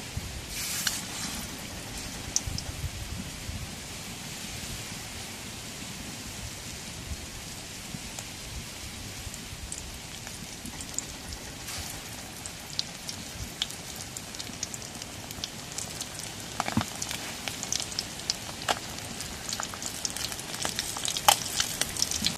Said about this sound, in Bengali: এখন তেল গরম হয়েছে, তেলের মধ্যে এখন দিয়ে দিই।